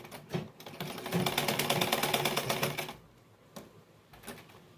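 Sewing machine running a stitch along the edge of a kurti, a quick burst of rhythmic rapid needle clatter lasting about two seconds, then a few isolated taps and clicks as it stops.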